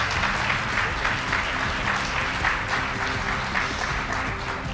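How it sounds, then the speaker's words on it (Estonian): Steady audience applause in a hall at a concert ceremony for the Estonian Republic's 98th anniversary in Valga, dense continuous clapping at a moderate level throughout. "Aplaus!"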